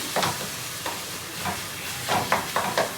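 Fish coated in masala sizzles in a frying pan while it is stirred, giving repeated scraping strokes over a continuous, close, moderately loud sizzle, with no talking.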